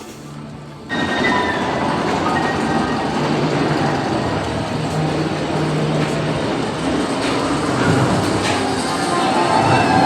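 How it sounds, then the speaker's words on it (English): A loud, rolling rumble of a roller coaster train at Alton Towers builds and sustains, with rattling wheels and clattering track noise close by. "And by the sounds of it, a train's coming up."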